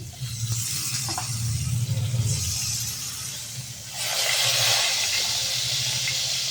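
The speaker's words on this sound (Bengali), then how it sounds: "এবার আমি একে একে এগুলো তেলে ছাড়ছি। তেলটা আমাদের গরম হয়ে গেছে।" Salt-and-turmeric-coated pieces of okra dropped one by one into hot oil for doi dharosh, a low rumbling fry that swells into a loud, bright hissing sizzle partway through, close up, with a faint voice in the background.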